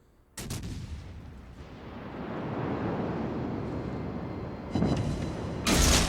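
Warship naval guns fire in World of Warships: Legends, with a heavy boom opening a long rumbling roll and further loud salvo blasts near the end.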